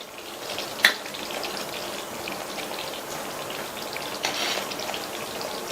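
Whole tomatoes sizzle in oil in a covered pan over low heat, making a steady, dense crackling hiss like rain, with a sharp clink near the start and a brief swell later as they are turned over.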